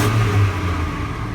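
A GMC Sierra 2500HD pickup's 6.0-litre LQ4 V8 with about 140,000 miles revs loudly up close, a deep rising engine roar that holds and then settles, with no talk.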